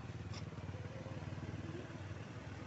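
Kawasaki KLX motorcycle engine running steadily nearby, a continuous low throbbing rumble with rapid regular pulses throughout, no clear revving.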